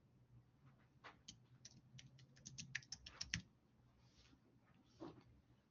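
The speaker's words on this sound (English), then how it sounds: "here, I'm going to type in my name" Someone types a name on a computer keyboard into a document, with a quiet flurry of key taps and a few sharper clicks, close and fairly faint.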